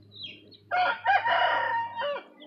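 A single rooster crows nearby, a loud drawn-out call rising and falling over about two seconds against a quiet background hum.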